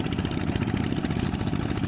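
A small walking tractor tills a flooded rice field on its second pass, its engine a steady low chugging hum with a quick even beat, heard from some distance with no talk over it.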